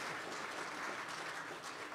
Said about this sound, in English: let's give Kim a good round of applause